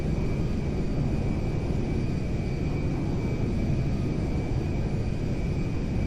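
Huge firefighting airplane in GTA 5 flying overhead, a steady, dense engine roar with a constant drone that stays even and close throughout, with no voices.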